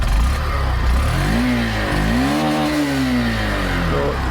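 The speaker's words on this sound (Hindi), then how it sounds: "बाइक न्यूट्रल पे इसका साउंड सुन लेते हैं" A Honda Shine 100 motorcycle engine idles steadily in neutral up close, with a low, smooth hum and a slight rise and fall in pitch.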